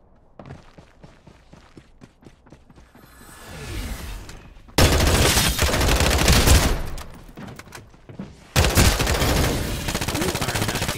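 Rapid bursts of MK.R automatic gunfire in the Farlight 84 battle royale game, loud, dense volleys after a quieter stretch of scattered clicks and shots, with a brief pause between the two long bursts.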